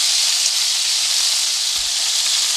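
Steady bright sizzle of food frying in a pan while cooking Thai red coconut curry, a constant hiss throughout with no talk.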